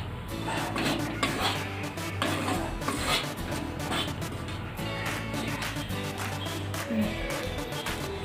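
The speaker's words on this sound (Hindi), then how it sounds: "अब इसमें हम गेहूं के आटे डाल देंगे। आटे को ब्राउन होने तक भूनना है।" Wheat flour roasting in a pan for a vrat Mohan Bhog, stirred with a spoon that scrapes and clinks against the metal in a steady, continuous rhythm, close and moderately loud throughout.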